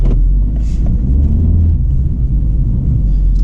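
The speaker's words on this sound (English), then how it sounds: "we're about to go on a drive in a 2016 Honda Civic" A 2016 Honda Civic on the move, heard from inside the cabin as a steady, loud low rumble of engine and road noise, constant throughout with no talking.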